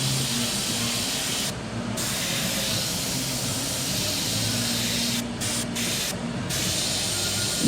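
An airbrush sprays paint onto a skull in a steady, close hiss, with a low hum underneath and a few short breaks where the trigger is released.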